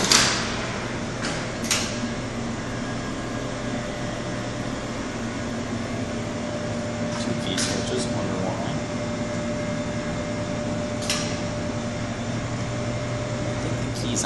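Relays clicking inside a circa 1961 Monarch hydraulic elevator at Harrelson Hall, NCSU, a few sharp clicks scattered over a steady mechanical hum.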